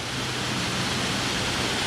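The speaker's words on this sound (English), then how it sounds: "Just crazy how many different little waterfalls and different tiers it has coming out of here." Fall Creek Falls in Idaho, water cascading over several tiers, a dense steady rushing roar that stays loud and even throughout, with no voices.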